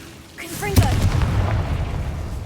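A Confringo fire spell in Hogwarts Legacy goes off as one sharp, booming blast after a short rising whoosh. A crackling, rumbling burn trails off after it, and a voice is briefly heard just before the blast.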